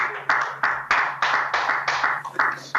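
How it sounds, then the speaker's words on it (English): An audience at Millfield applauds, a steady wash of many hands clapping close by, with rhythmic surges throughout and no talk. "You got a round of applause."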